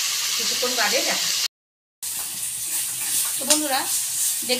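Beetroot sizzles in a pan while being stirred, a close frying hiss with scraping and stirring sounds, briefly cut by a silent gap, and a voice talking over it.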